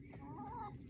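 Hens from a free-ranging backyard flock cluck softly and continuously, a low, fairly quiet murmur of calls with no talking.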